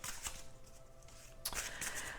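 A deck of oracle cards is shuffled at close range in a quiet room, with soft riffling bursts at the start and a louder flurry of card noise in the second half.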